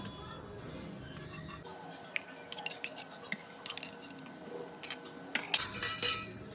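Utensils clink and scrape against a plate as pieces of fish are served alongside potato for a home lunch, a series of light metallic taps and scrapes, close and fairly quiet, with a brief soft voice at the start.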